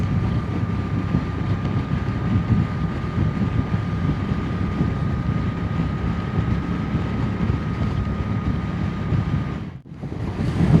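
Wind rushes over heated motorcycle gloves while riding at speed, a constant loud roaring buffet that dips briefly just before the end.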